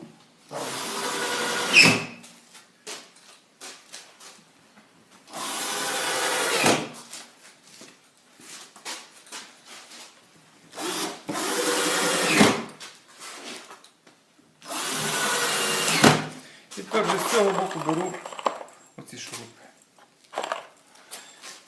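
A power screwdriver drives screws one by one into a wooden beehive body, giving four whirring bursts of about two seconds each, separated by pauses filled with faint handling knocks and wood scrapes.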